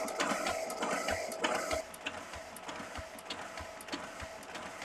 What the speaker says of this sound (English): I'm gonna hit start scanning button because I really do want you to see how fast it is